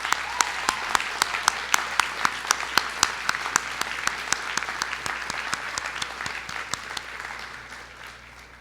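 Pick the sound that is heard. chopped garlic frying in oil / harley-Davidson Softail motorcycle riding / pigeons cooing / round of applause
round of applause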